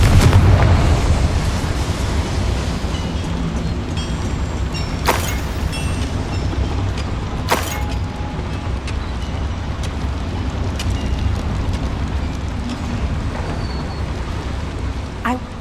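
Confringo fire spells explode inside a mine in the video game Hogwarts Legacy. Two sharp blasts cut through a dense, rumbling, noisy background that fills the whole stretch.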